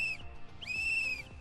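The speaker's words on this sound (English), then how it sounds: "I have someone blowing a whistle behind the drum outside the arena" A whistle is blown from behind a barrel outside a rodeo arena to guide a legally blind barrel racer, sounding as two sustained shrill blasts with a short gap between them and a low rumble of the surroundings underneath.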